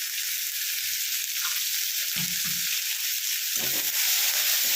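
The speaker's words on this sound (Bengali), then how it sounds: "অল্প নুন দেবো যাতে তাড়াতাড়ি পেঁয়াজটা ভাজা হয়ে যায়" Onions frying with a little salt and turmeric in a pan, a steady close sizzle throughout, with a few soft scraping stirs partway through.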